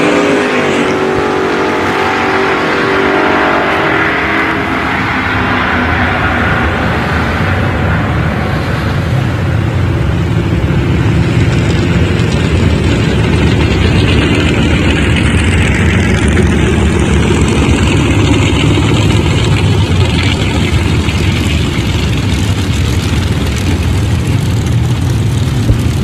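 Drag racing cars, a Chevelle and a Nova, roar loudly and continuously at a strip in Woodburn, Oregon, with dense engine noise holding steady for the whole run and no talk over it.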